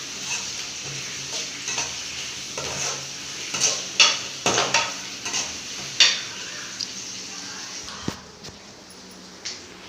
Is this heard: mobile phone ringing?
no